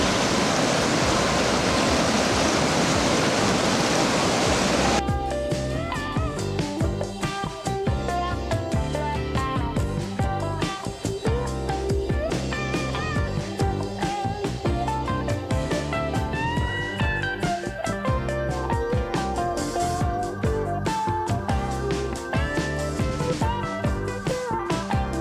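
Water rushes steadily at Pinawa Dam as a loud, broad, close roar for several seconds, then music takes over and covers it.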